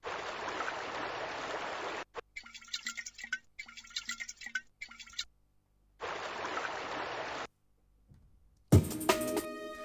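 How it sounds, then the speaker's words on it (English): A water sample plays in Ableton Live as a music production effect, sounding in choppy bursts of splashing, gurgling liquid separated by short silences, ending with a sharper, brighter stretched burst. "Stretch this water sound right out like that."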